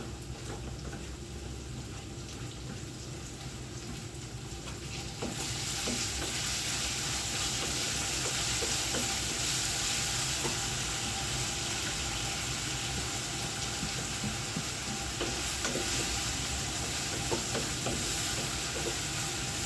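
Garlic, ginger and green chillies fry in hot oil for a mango pickle, with a moderate sizzle that swells noticeably louder partway through and continues steadily with faint stirring ticks.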